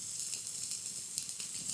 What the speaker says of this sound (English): Let's get some sizzle action.